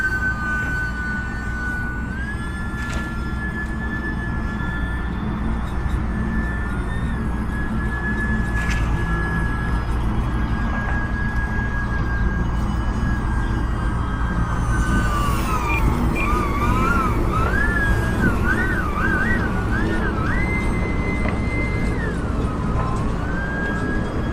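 An E-flite UMX Pitts S-1S RC airplane on a 3-cell battery flies at throttle with a steady high-pitched motor whine, holding level before rising and wavering sharply in pitch as it climbs and turns. Broad wind and ambient noise run underneath throughout.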